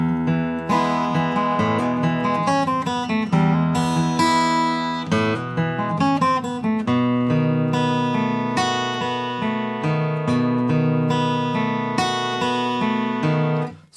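Acoustic guitar playing the intro of a song, a steady flowing run of picked notes and chords that rings out clearly and alone, fading at the very end.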